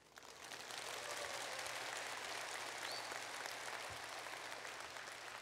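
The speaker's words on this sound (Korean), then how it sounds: "박수 고맙습니다." An audience applauds at a traditional Korean music concert performing Sujecheon. The clapping is soft and distant, a continuous wash that swells after a quiet start and holds steady.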